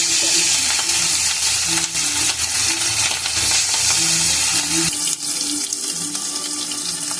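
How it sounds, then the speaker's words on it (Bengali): Katla fish pieces dropped into hot oil for dahi katla make a loud, continuous, close-up sizzle and hiss that holds steady with small crackling bursts and no speech. "এখানে তেল গরম হয়ে গেছে, এবার মাছগুলো ছেড়ে দেবো।"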